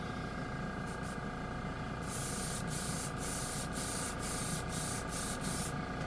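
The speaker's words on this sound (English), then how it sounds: "Oh, compressor's coming on." Air compressor switching on for airbrush painting at a hobby bench: a steady motor hum runs throughout, then a loud airy hiss cuts in after about two seconds, pulsing at a regular rhythm.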